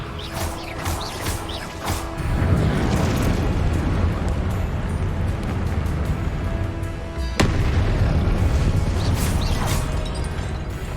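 Blasting spells, including the Confringo curse, crash out during a boss fight in the Hogwarts video game, a loud, continuous rumble of explosions with a sharp fresh burst about two-thirds through.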